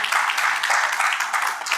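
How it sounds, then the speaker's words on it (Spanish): Brief burst of audience applause at a Spanish-language church class, a short, fairly close patter of many hands clapping. "Un aplauso a Tania también"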